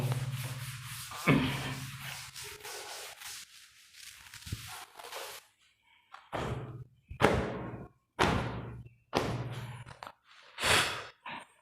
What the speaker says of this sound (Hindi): मिटा दे रहा हूं इसको।